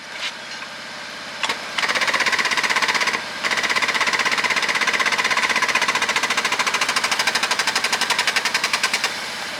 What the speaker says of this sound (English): just got to break the inner bead now